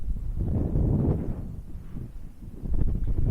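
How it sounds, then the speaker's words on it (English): Low, rumbling wind on a beach in Cornwall buffeting a clip-on lavalier microphone, steady broadband roar with gusts rising and falling throughout. "Do you know how windy it is? I guess you can hear because of the old lav mic."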